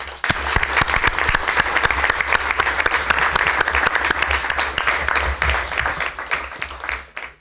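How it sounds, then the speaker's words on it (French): Applause at a town council meeting, a room full of people clapping loudly and densely for several seconds, then thinning out and stopping at the end. "on l'applaudisse"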